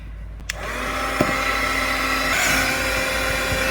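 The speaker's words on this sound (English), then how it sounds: "I'm just going to hit it with the blow dryer real quick." A hair dryer blows steadily and loudly close by for several seconds, a continuous whooshing whir with a couple of small clicks as it starts, drying a tea bag art card.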